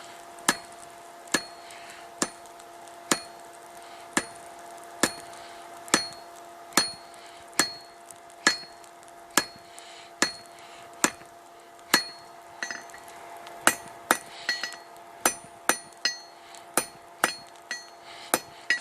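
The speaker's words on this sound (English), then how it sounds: "use the rounding side of my hammer. And I'll go ahead and do it right here on the horn" A hammer's rounded side strikes metal on an anvil horn while forging a fire poker, in a steady rhythm, ringing blows about every second, speeding up toward the end, with no talking.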